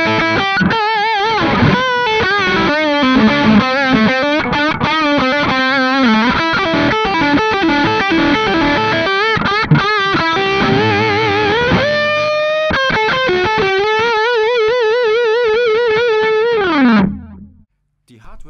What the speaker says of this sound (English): here's the sound of the bridge pickup this time.